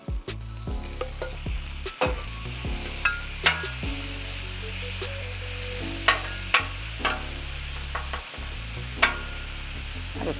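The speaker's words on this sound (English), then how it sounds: "now we're gonna throw the shrimp in here" Shrimp and garlic sizzle loudly in a pan for fried rice, a constant close frying hiss broken by sharp scraping clicks of a utensil stirring against the pan.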